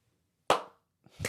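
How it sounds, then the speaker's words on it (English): Two sharp hand claps in a quiet room, the first crisp and clear, the second softer about three quarters of a second later, with no talking. "I just did a clap so I know where to come and put that script at"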